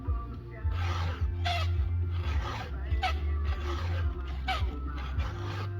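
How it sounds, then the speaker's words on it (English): A metal file rasps against a chainsaw chain tooth in repeated short strokes, each a close gritty scrape in an even rhythm, with a low engine-like hum underneath. "you can watch the tooth get sharp as you're filing it"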